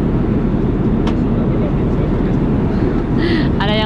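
Steady, loud broadband roar of an airliner cabin in flight on a Qatar-bound journey, a constant engine and air rush filling the whole clip, with brief faint clicks and a voice near the end.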